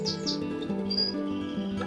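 A caged songbird chirps in the early morning, with bright, repeated high tweets and short calls ringing out clearly and close.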